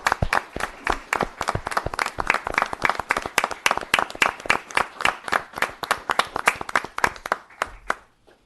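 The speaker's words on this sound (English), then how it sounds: "Ladies and gentlemen, please, a round of applause for Officer Brandon Montero." A steady round of applause from a small crowd at a town board meeting, with rapid overlapping claps that fade out at the end.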